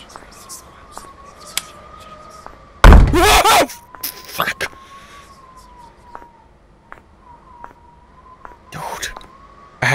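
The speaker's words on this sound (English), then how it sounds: "so like that slamming is so loud" Loud slams in a horror video game, sharp heavy bangs bursting out of a quiet, tense ambience with a thin wavering tone, one big slam followed by several smaller knocks and a last hit at the end.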